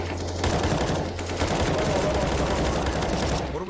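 Gunfire in the Counter-Strike video game, rapid bursts of shots running continuously under a voice speaking.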